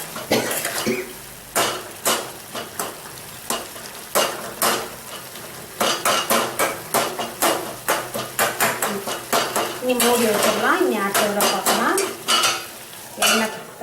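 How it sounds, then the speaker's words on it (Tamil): A spoon stirs and mashes tomatoes in a pan for a tomato chutney to serve with idli, making repeated close, clattering scrapes against the metal in quick rhythmic bursts with a soft sizzle beneath. "நல்லா இந்த மாதிரி கலந்து விட்டோம்னா தான் இது வந்து அந்த தக்காளி வந்து நல்லா ஸ்மாஷ் ஆகும்"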